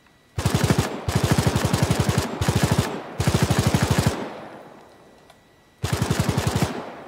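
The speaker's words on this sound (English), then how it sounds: "we now have the MG34 PT, so with the PT mag, 75 rounds" MG34 PT machine gun fired in IFA3 for Arma 3, set in World War II: four rapid full-auto bursts in quick succession, a ringing echo tail, then one more burst, loud and close.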